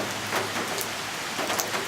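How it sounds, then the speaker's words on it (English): Heavy rain from Hurricane Florence falls in a dense, steady hiss outdoors, with close drops spattering on surfaces throughout and no voices. "just a lot of heavy rain out here"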